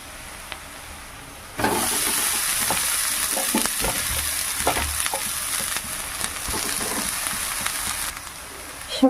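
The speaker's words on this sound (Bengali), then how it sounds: "ভাজা হয়ে গেছে আবার শাকগুলো দিয়ে দেবো" Chickpea greens dropped into hot oil in a pan burst into a loud, steady sizzle after a quiet moment, with occasional stirring scrapes and pops continuing close up.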